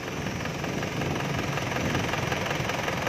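A 2005 Isuzu Highlander's 2.5-litre diesel engine runs at idle, a dense continuous rattling clatter with steady low rumble, close and uninterrupted, with no talk.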